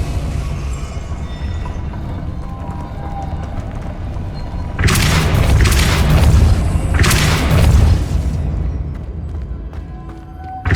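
A Depulso force spell strikes with a loud, deep booming impact in Hogwarts Legacy, a broad roaring burst lasting a few seconds that swells twice before settling back into the game's steady low ambience.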